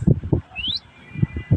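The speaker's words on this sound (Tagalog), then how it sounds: "May ibon pa." A single rising bird chirp from the Minecraft video game, brief and thin, sounding between bursts of a man's speech.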